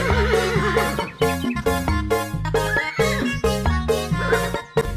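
A horse whinnies with a wavering cry at the start, set against steady, loud melodic music that continues throughout.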